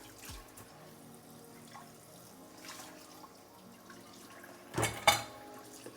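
A kitchen tap runs into a sink as dishes are washed after cooking shakshouka, with steady water flow, small clinks of pots and cutlery, and a louder clatter near the end.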